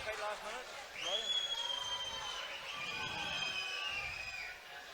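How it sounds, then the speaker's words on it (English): Big crowd at a boxing match between Nathan McGillian and James Slavin cheering and shouting, with high whistles and excited yells over a steady roar and a commentator talking on top. "Big crowd in attendance are enjoying it too"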